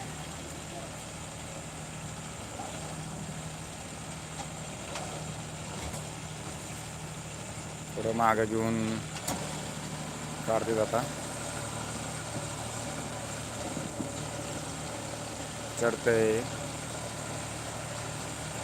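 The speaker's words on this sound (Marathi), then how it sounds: "अशा पद्धतीने ट्रॅक्टर चाललेला आहे" A John Deere tractor engine runs steadily in a burnt sugarcane field, its constant mid-low drone close throughout, while a few short bursts of human talk rise over it.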